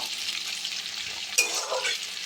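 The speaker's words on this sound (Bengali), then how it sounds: "এবার এগুলোকে লাল করে ভেজে নেব।" Chopped onion and tomato frying in a pan, giving a continuous close hiss of sizzling oil with a brief stirring scrape partway through.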